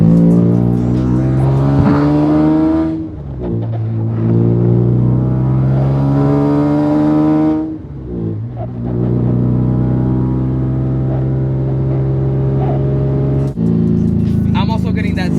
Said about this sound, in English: let's get some exhaust clips of the car